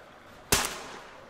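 A single sharp gunshot rings out in the video game Metro Exodus, a sudden loud crack followed by a short decaying tail over quiet background ambience.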